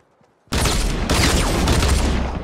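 Gunfire in the video game Fortnite erupts after a brief quiet moment: a loud, dense, sustained burst of rapid shots and booms lasting about two seconds, close and overwhelming.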